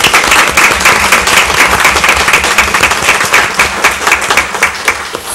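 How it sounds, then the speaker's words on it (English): An audience at a school board meeting breaks into loud, dense applause for Irving Elementary's award winners, with sustained clapping that holds steady and gradually thins toward the end. "let's clap for them."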